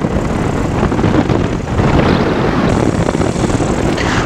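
A Peabee XC flexwing microlight drones steadily in flight with a continuous broadband engine and propeller roar plus wind rush, loud and unbroken throughout, no voices.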